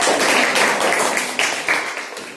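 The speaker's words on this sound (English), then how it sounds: "Now clap for yourself." Children in a classroom clap together in a brisk, loud burst of sharp overlapping claps that gradually thins out toward the end.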